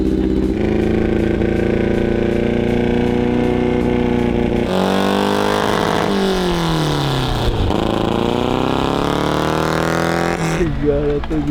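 A homemade fake F1 car's engine runs loudly and roughly nearby, its pitch rising and falling through several revs, with a person talking over it.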